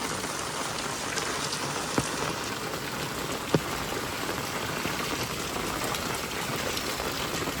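Steady rain that has been falling since early morning pours in a continuous, close hiss of drops on surfaces, unbroken throughout, with a couple of brief sharper taps standing out.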